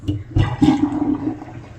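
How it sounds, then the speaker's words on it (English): Water drains from a kitchen sink through a push-button drain strainer, a close gurgling, rushing swirl that opens with a couple of thumps and fades toward the end. "Alright, so now I'm going to let the water out by pushing the button."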